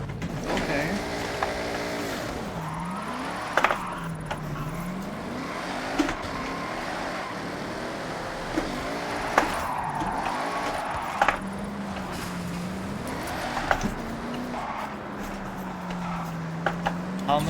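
Drift car engine in the Forza video game, revving up and down in repeated swooping sweeps with sharp shifts and tire noise, continuous and fairly loud, with occasional sharp transient clicks and no voices.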